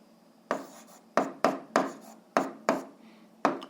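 An answer being written by hand during an eighth-grade algebra lesson, a run of about seven close, distinct scratchy strokes in an uneven rhythm over a quiet background.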